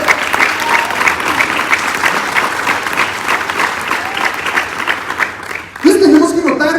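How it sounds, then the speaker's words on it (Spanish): Church congregation gives loud, sustained applause for several seconds at a Sunday service, a dense rolling clatter of many hands, ending as a voice starts speaking over it. "Den un fuerte aplauso a Él."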